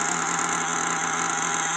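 A modified LRP .32 AMR nitro RC engine runs steadily through its break-in on the first tank, giving a continuous, loud buzzing drone with a constant pitch and no audible speech.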